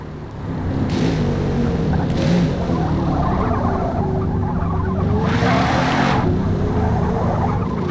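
A 2018 TVR Griffith in Forza Motorsport, rear-drive race tune, revving hard as its rear tires spin and squeal, a steady loud engine roar with rising pitch and scrabbling tire noise throughout.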